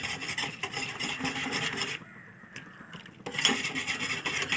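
Spoon stirring a custard and milk mixture in a pot for fruit salad, producing a rhythmic scraping and rasping against the metal, close and continuous apart from a brief pause midway.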